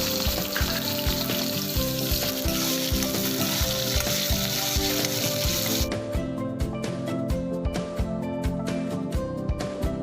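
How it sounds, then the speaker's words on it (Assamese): Chopped onions fry in hot oil alongside a whole garlic clove for a local chicken curry, giving a loud, steady, crackling sizzle that runs unbroken throughout with no voices. "পিঁয়াজখিনি ৰঙচুৱা হৈ যোৱালৈকে আমি ভাজি লৈছোঁ।"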